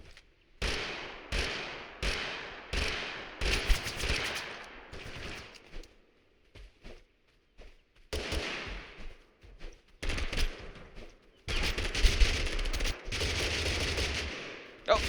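Bursts of automatic gunfire in the video game Totally Accurate Battlegrounds, several rapid volleys of varying length separated by short quiet gaps, the last burst long and sustained.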